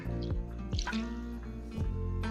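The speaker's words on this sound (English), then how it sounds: "I'm gonna add 1 cup of chicken broth to this" Chicken broth poured into a ramen casserole, a steady liquid stream with dripping and splashing close by, audible throughout alongside a humming background tone.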